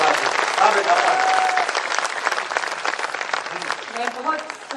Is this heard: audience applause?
yes